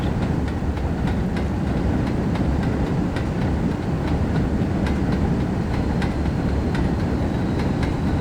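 A video-game train hauling sand, led by a Class 37 locomotive on the Tees Valley Line, rumbles along the track with a steady low roar and rhythmic clickety-clack of wheels over rail joints, continuous and close.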